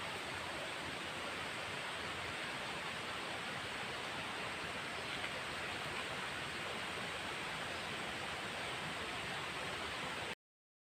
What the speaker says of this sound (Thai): ได้ยินเสียงน้ำตกแล้วครับ